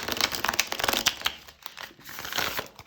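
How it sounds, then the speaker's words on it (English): Small tarot cards with standard card stock being riffle shuffled, giving a close, crisp flurry of rapid flicking and crinkling that pauses briefly midway and then resumes. "let's try to riffle shuffle on camera"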